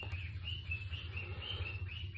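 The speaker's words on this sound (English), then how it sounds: "Oh, sorry about my bird. Thinks he's a squeaky toy." A pet bird gives repeated high, thin chirps and squeaks at a steady pace. The calls sit faintly over a low indoor hum, with no talking.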